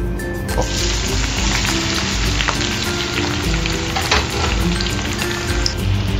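Chopped onion sizzling and frying in hot mineral oil in a wok, a loud, steady crackle that holds from start to finish with faint stirring knocks.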